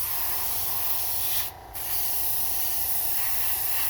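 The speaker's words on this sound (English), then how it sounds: "on this airbrush, the further back you pull, the more dye you're going to get" An airbrush sprays dye onto leather in a steady close hiss. It stops for a moment near the middle, then resumes just as before.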